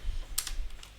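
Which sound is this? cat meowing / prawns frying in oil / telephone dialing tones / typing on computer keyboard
typing on computer keyboard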